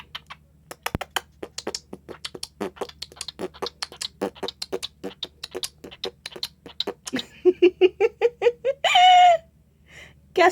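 Pet cockatiel chirping in a run of quick, sharp whistled notes that grows into longer warbling calls, close and clear against a quiet room with no voices.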